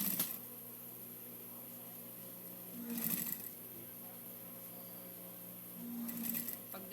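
A sewing machine stitches thick jogging pants in short bursts of close, quiet mechanical whirring, three brief runs separated by pauses.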